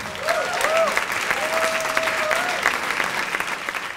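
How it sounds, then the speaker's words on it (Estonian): An audience gives a warm round of applause for Estonian jazz pianist Joel Remmel, steady close clapping across four seconds as a voice briefly speaks over the start. "Palun teile ühe hästi sooja aplausi Joel Remmel Põhjal."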